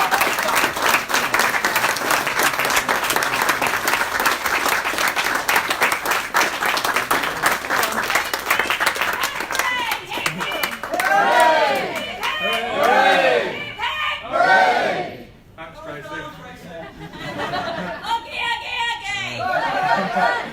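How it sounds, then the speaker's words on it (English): Long, loud round of applause and cheering from a crowd at a goalball season awards ceremony, dense clapping with shouts and chatter that gradually thins into people talking and laughing. "I want to give her a huge round of applause"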